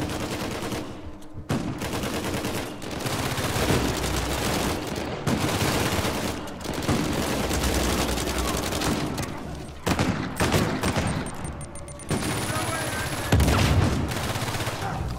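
Gunfire in Uncharted 4, rapid bursts of automatic shots and fusillades rattling almost continuously, loud and dense, with a few brief pauses between volleys.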